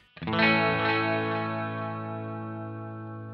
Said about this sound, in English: I've set the delay time to an eighth note just to create a little bit more rhythmic